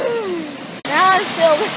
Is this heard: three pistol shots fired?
no